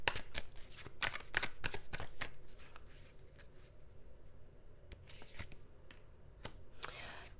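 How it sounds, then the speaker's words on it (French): Tarot cards being shuffled and drawn on a table, a quick run of crisp riffling snaps followed by a softer pause, then a few scattered card slides and flicks, close and fairly quiet. "on va juste tirer quelques cartes du tarot pour les béliers"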